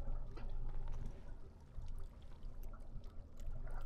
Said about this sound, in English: Dump the water back into the pool.